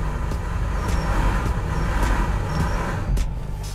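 A 2020 Toyota Prius AWD-e at full throttle in power mode, stuck on a slip-test ramp, gives a steady low drone with faint ticks above, fairly loud and continuous, with no voices.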